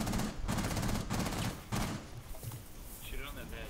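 Rapid automatic gunfire in Rainbow Six Siege on the Presidential Plane map rattles in loud bursts for about two seconds, then fades into quieter game sounds with a voice talking over it.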